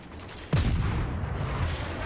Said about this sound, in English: here comes my torpedoes